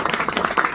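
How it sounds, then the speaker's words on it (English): Audience applause at a rock concert in London, a brief burst of many hands clapping together in a dense, fairly loud patter. "Can we have a round of applause for Jo"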